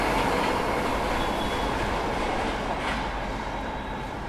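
The Kanpur Shatabdi express runs at speed on the Kanpur–New Delhi section, a loud continuous roar of wheels on rails with faint clatter throughout.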